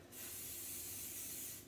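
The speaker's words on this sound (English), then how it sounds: "we need a ramekin, which I'm going to spray" Oil sprayed from a can into a ramekin, one continuous close hiss lasting just over a second, quiet and alone.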